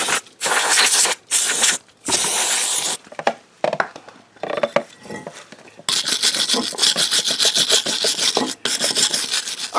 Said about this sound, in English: I want to take a wire brush and clean this all out so the new tins sit in there